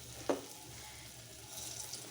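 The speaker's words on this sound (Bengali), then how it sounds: "যেহেতু এটা তরকারি বানাবো তার জন্যে বড়াগুলো একটু বড় বড় করে ভাজছি।" Fritters (boras) frying in hot oil for a curry, a steady soft sizzle throughout with one brief sharper crackle near the start, close and fairly quiet, no voices.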